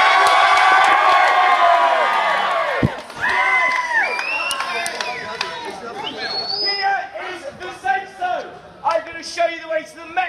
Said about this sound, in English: So can I have a big cheer,